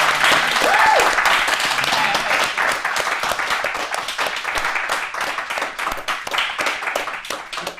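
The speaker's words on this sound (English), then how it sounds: "What we need to do now is give them a mad big clap." An audience in a room applauds a panel at a live diversity and inclusion event, with dense, sustained clapping from many hands throughout, loud and steady and fading slightly toward the end.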